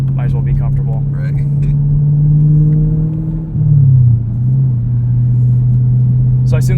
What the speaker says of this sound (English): So I assume this also has the GM Performance exhaust.